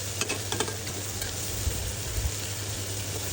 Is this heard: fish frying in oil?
yes